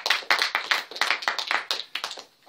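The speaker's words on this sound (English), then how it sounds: "Applause at a press conference, how rare." A small group claps at a political press conference, a sparse run of distinct, close handclaps in an uneven rhythm that thins out and fades within a couple of seconds.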